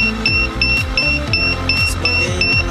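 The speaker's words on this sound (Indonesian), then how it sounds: "alarm buzz warning" Forest fire smoke-detection alarm buzzer sounding a steady, repeating electronic beep pattern, loud and continuous, with regular pulses roughly every third of a second against a busy background.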